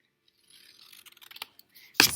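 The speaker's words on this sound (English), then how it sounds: "I'm just going to cut along that line" Scissors cut paper along a drawn line for tangram pieces: a run of faint, soft snipping and crinkling close by, ending in a sharper, louder crunch.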